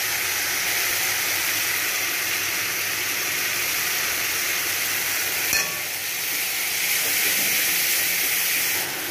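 Mustard paste frying in a pan with tomatoes for a rohu fish curry, giving a continuous loud hiss and sizzle with a brief clink of a utensil midway, and no talking.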